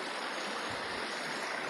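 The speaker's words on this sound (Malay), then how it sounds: "Saya berada di hulu sungai Kayan." The upper Kayan River flows with a broad, steady rush of water, a soft, even hiss with no distinct splashes, heard alone at moderate distance.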